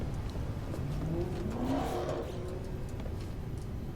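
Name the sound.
loud car revving emote in No Man's Sky video game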